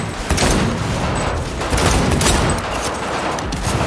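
Sustained pistol gunfire in the video game Cyberpunk 2077, a dense, loud barrage of shots with explosive bursts that runs the whole time without a pause.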